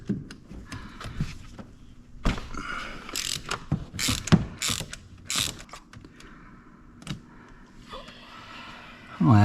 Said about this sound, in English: take the old spark plugs out here